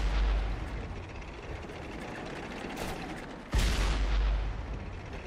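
Tank cannon fire in World of Tanks: two heavy booming shots with deep rumbling tails, the second sharper and louder, under a constant low engine drone and faint mechanical rattling.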